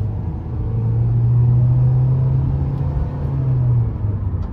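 A 2023 Nissan Kicks SR accelerating hard from inside the cabin, a droning engine tone that climbs and holds for a few seconds, then eases off, over low road rumble.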